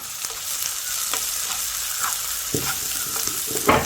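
Crushed onions, shallots and dried red chillies fry in hot oil, giving a continuous soft sizzle with occasional stirring scrapes and crackles, close and moderately loud, with no voices.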